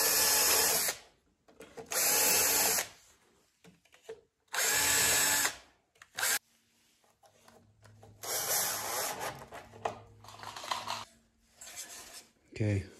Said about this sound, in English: This is really important that you pre-drill these.